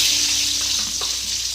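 Thick round slices of potato go into Malabar spinach stems cooking in a pan, which sets off a loud, steady hiss of frying up close, with faint stirring knocks.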